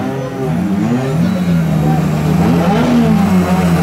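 An R5 rally car wearing number 4 runs its engine at a rally's ceremonial start, its steady mid-range drone rising and falling slightly under a commentator's voice.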